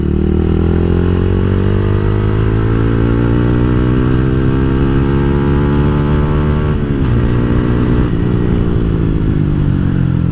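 A motorcycle with about 25,000 km on it accelerates on the road, its loud engine note climbing steadily in pitch, briefly dropping as if changing gear, then rising again, heard close with no talk.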